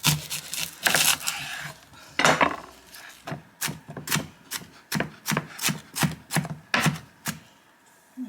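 Half an onion chopped with a knife on a board in a home kitchen, a run of crisp, close, evenly spaced cutting taps after a few rougher scraping strokes.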